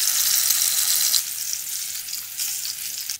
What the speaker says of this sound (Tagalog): Tapos iprito natin itong ating mga eggplant.